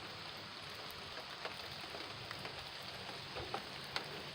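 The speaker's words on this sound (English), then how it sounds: "I'm just sitting out here listening to the rain on my truck" Steady light rain patters on a truck in a continuous hiss, with occasional slightly louder drops tapping through.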